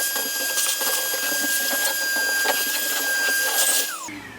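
A shop vacuum runs steadily with a whining motor tone and broadband rush, close and loud, then winds down sharply near the end.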